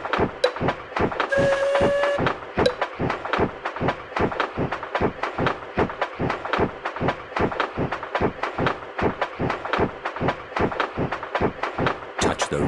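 A cartoon train in the Peppa Pig ride game rolls along with a steady, fast clackety rhythm of repeated beats throughout, joined by a brief horn-like tone early on.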